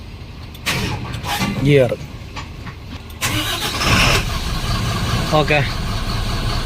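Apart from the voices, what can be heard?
truck engine starting and idling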